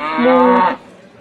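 A human voice imitates a cow's moo in a church Easter drama: a single drawn-out, tonal 'moo' lasting under a second, loud and close, then fading to quiet room noise.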